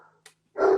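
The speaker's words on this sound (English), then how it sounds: "I'm gonna get my dogs to stop barking." Dogs barking at home: one short yip, then a loud, close bark that fills the end, with no talk over it.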